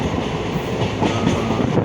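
Malaikottai Express passenger train running on rails, a dense continuous rumble and rattle of wheels and carriage heard from close by, steady and loud throughout.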